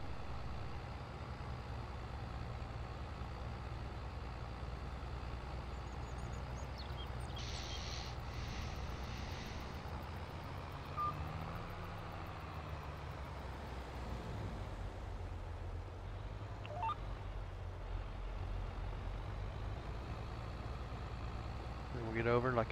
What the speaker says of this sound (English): A little tight up in here to turn around with this tractor, but we'll get her.